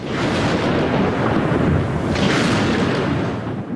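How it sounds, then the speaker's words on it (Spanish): A heavy thunderstorm breaks out, with a loud, continuous rumbling roar of thunder that swells again partway through and fills the whole stretch without letup. "Como simbolizando el significado de la reunión, estalla una fuerte tormenta."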